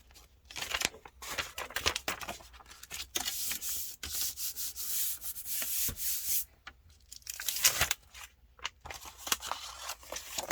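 Print paper peels off a Gelli plate coated in acrylic paint, giving dry rasping, tearing and crinkling bursts that come in uneven clusters, close and fairly quiet.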